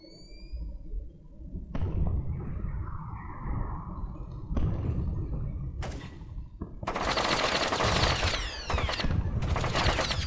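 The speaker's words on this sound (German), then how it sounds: "Wir werden beschossen." Gunfire in Splinter Cell: Chaos Theory, several sharp bursts of shots and rattling automatic fire spread over ten seconds, loud and close, mixed with thuds, impacts and game ambience.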